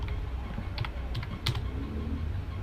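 Fingers tap out commands on a computer keyboard in a quick, light run of clicks, close and fairly faint over a steady background hum, with no talking.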